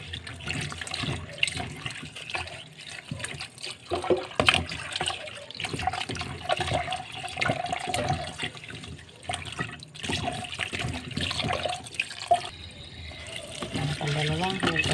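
Boiled herbs being rinsed and swished in water, with splashing and pouring under a voice speaking through most of it, the liquid sounds continuing in uneven bursts.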